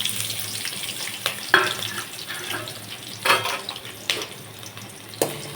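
Onion with cinnamon and cloves sizzling in hot oil in a kadai for cauliflower gravy, a soft continuous fry with a few clinks and scrapes of stirring.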